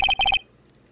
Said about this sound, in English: We are going to call my cell phone now.